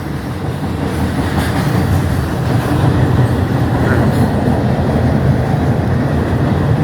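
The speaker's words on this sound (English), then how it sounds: "The train going by." A train rolls past close by as a loud, continuous rumble with a rattling clatter of wheels and cars that lasts for about seven seconds.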